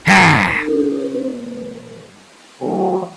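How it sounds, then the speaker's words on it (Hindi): A black monkey lets out a loud, drawn-out roaring growl in a horror story sound effect, a harsh bellow followed by a long groaning tone and a shorter second roar, with nobody speaking over it. "तभी वह काला बंदर जोर जोर से चिंघाड़ने लगता है।"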